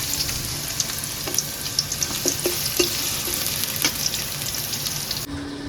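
Chopped onion hits hot oil for a tengra fish curry, giving a steady loud sizzle with scattered crackles and a few soft stirring knocks, with no talk.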